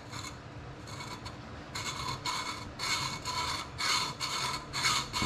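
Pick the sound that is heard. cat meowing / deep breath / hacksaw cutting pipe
hacksaw cutting pipe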